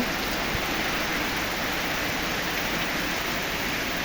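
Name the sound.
heavy rain falling on wet grass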